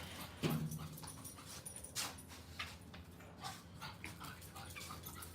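A pet dog whimpers softly outdoors in the morning, with a short whine early on and faint yips and breathy sounds continuing at low level against quiet background noise.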